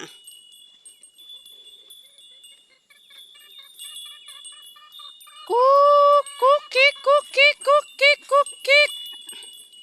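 Chickens cluck nearby, first softly, then in a loud rhythmic run of about eight sharp calls, with a faint steady tone underneath.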